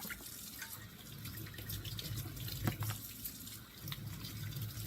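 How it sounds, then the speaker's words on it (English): Tap water runs steadily over food being rinsed in a colander in a home kitchen, a continuous splashing hiss with small fluctuations and no speech. "use the colander. Wash these up."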